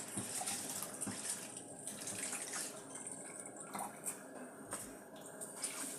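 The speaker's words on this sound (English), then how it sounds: "So I'll wash my rice. I normally wash my rice 7 times." Rice is washed in water in a home kitchen. A faint, continuous trickle and slosh of water runs throughout, with light splashes and drips.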